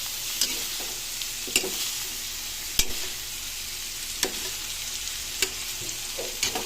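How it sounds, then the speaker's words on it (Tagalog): Beaten eggs stirred into string beans in a hot frying pan: a continuous sizzle under regular, sharp scrapes and taps of a spatula against the pan, close up, with no talking. "tatlong tatlong itlog ilagay natin tapos haluin na natin"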